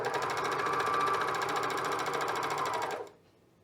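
Sewing machine stitching the hem of a knit top, a steady close rhythmic whir that runs continuously for about three seconds and then stops abruptly, leaving near silence.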